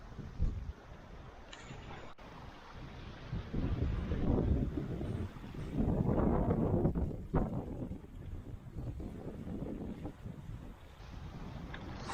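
Gusty wind buffets the microphone on a sailboat crossing the Atlantic, swelling and easing in waves over the hiss of the sea.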